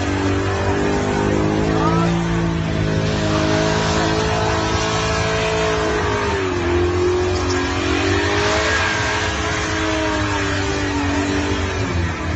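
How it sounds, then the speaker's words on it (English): A Holden VL Berlina with a 355 stroker engine does a burnout at an Oznats event in Adelaide, roaring loudly and continuously with a wavering engine note, tire squeal and crowd noise underneath. "pretty cool burnout down there at the moment, just using up as much of the pad as he can"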